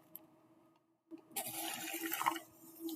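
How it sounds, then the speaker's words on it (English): Water poured from a container into an open plastic bag for a classroom science experiment, a splashing, rushing pour that starts abruptly after a quiet moment and runs steadily for about two seconds, close and fairly loud. "the other student will pour the water in"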